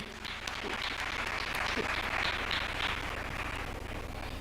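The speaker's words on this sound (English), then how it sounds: "A big round of applause to their excellencies." A ceremony audience at a closing summit session in Nairobi, Kenya applauds dignitaries, a soft, distant, steady wash of clapping from a large hall, with faint murmuring voices beneath it.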